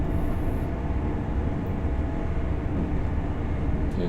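GWR Class 800 train in Train Sim World 5 rumbling steadily along the line, a dense, loud, continuous roar of wheels and traction with no voices over it.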